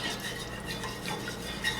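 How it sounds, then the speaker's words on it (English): A spoon stirs macaroni and cheese sauce in a pot on the stove, making a continuous close scraping, sloshing sound with faint clinks of metal against the pot. "Just make sure you stir it a little bit more."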